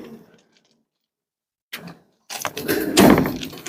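The door of a Derksen ramp utility building clatters open after a quiet pause: a short knock first, then a longer, louder rattling scrape and bang of the door moving, heard close up.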